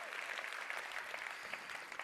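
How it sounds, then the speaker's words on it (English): A convention crowd at the 2023 ASEA Global Convention applauds a presenter with a faint, distant, even wash of clapping that carries on for a couple of seconds. "Give a round of applause for Denise"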